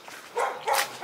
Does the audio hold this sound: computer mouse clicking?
no